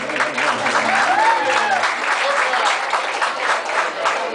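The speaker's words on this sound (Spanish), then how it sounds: "Un fuerte aplauso, damas y caballeros." Steady applause fills a wedding reception at a watermill, a dense, continuous clapping from the crowd. A voice rises briefly over it near the start.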